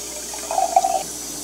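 Water pours into the base of a cheap fifteen-dollar hookah, a short, soft splashing trickle lasting about half a second and heard close up against a quiet room hum.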